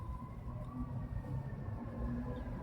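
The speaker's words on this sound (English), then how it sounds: "Now you hear the fire truck" A fire truck siren wails faintly in the distance over a low, steady street rumble, with no talking.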